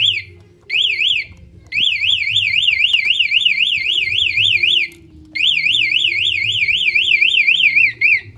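A Yamaha NMAX 2020 motorcycle's alarm shrills up close in rapid warbling bursts, loud and steady, broken by a few short pauses, with a low engine-like hum underneath and no talking.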